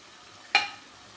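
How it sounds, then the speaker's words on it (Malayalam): A brief scrape of a spoon stirring masala powders into prawn roast frying in a pan, one short stroke with a soft sizzle, close and alone. "ഞാനിവിടെ മസാലപ്പൊടികളിട്ട് നന്നായിട്ടൊന്ന് ഇളക്കി യോജിപ്പിച്ചിട്ടുണ്ട്"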